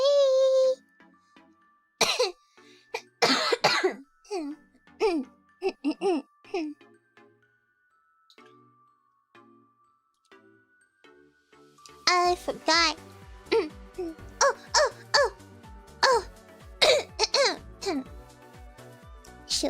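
Repeated harsh coughing in bursts, some close together and some spaced apart, mixed with throat clearing, while a young-sounding voice talks and a light chiming tone plays underneath.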